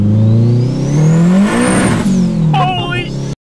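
Turbocharged 4G15 engine in a Mitsubishi Lancer accelerating hard, its loud rising drone climbing steadily in pitch with a whistle on top before easing off, while people's excited voices come in near the end.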